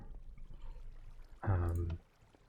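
Water flowing in Minecraft swells into a brief rushing pour for about half a second, then cuts off as it is shut off, leaving a quiet background.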